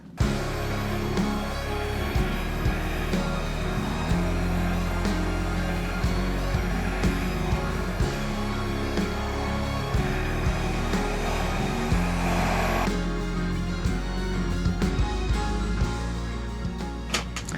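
A hair dryer blows steadily across a black-and-white acrylic paint pour, producing a continuous loud whooshing whir that shifts slightly in tone partway through.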